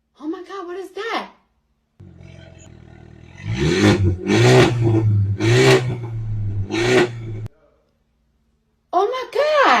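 Modded 2021 Mercedes-Benz A220 with a straight-pipe, catless exhaust and stage 2 tune revs in several loud, rising bursts over a steady idle, with people talking before and after.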